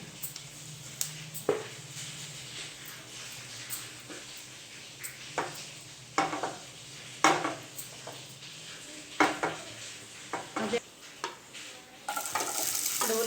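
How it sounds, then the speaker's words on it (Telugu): Mustard seeds and cumin sizzling in hot oil in a pan while making pulla gandha pulusu, a steady frying hiss with scattered sharp pops and utensil clinks throughout, growing brighter and louder near the end. "ఇప్పుడు ఇందులో నుంచి కొంచెం ఆయిల్ తీసేసాను అదే ఆయిల్లో మనము ఆవాలు జీలకర్ర వేసుకుందాము"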